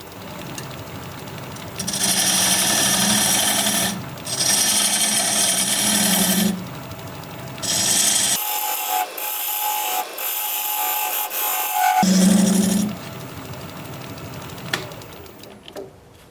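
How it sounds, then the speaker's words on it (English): A diamond point tool cuts acacia spinning on a wood lathe, truing the sides of a tenon: loud, close, raspy scraping in several bursts with brief pauses, the lathe's hum running underneath. "I can use this diamond point tool to straighten up the sides of the tenon"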